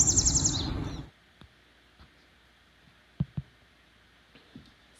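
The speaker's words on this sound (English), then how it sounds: "Also a yellow warbler, a very unusual and rare bird" A yellow warbler gives a quick series of high, bright chirps for about a second outdoors, followed by near silence broken by a few faint clicks and taps.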